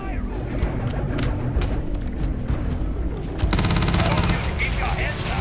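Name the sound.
heavy gunfire in the video game Starfield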